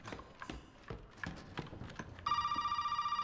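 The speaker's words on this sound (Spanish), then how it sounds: "Está sonando el teléfono." In the Resident Evil 7 video game, footsteps clop for a moment, then a telephone starts ringing loudly with a steady, trilling bell tone.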